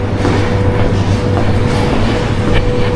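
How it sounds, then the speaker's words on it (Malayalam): A long train stands at platform 2 of a railway station in Ukraine, giving off a loud, steady rumble and engine hum with faint rail clatter throughout. "എൻ്റെ ട്രെയിൻ ഓൾറെഡി എത്തിയിട്ടുണ്ടെന്ന് തോന്നുന്നു"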